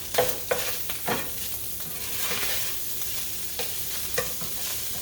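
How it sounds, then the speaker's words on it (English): Sausage gravy stirred in a frying pan, with a spoon scraping through the thickening mixture in repeated short strokes over a steady background sizzle; no talking. "You want to keep stirring that."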